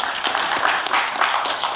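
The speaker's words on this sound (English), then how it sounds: "Please, a round of applause." Brief burst of audience applause at a nuclear business conference session, dense even clapping sustained for the full couple of seconds.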